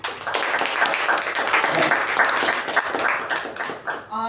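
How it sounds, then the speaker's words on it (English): Members at a club meeting give a round of applause for their Sergeant at Arms, steady mixed clapping from a roomful of people that fades out at the close. "Huge round of applause for our Sergeant of Arms."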